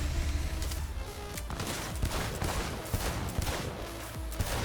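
A DR5 Nova revolver is hip-fired in Cyberpunk 2077: a rapid, loud string of gunshots packed over a dense, noisy game soundscape, with sharp cracks repeating every fraction of a second.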